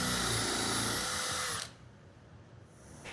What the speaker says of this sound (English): Now for the center post, I'm drilling out a 1 1/4 inch hole